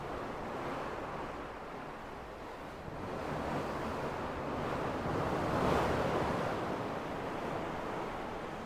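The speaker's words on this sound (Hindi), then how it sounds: "विंड चल रही है स्ट्रॉन्ग।" Strong wind and open sea roar at the bow of the MSC World Europa cruise ship at night, a continuous heavy rushing wash with gusts swelling and easing, no voices.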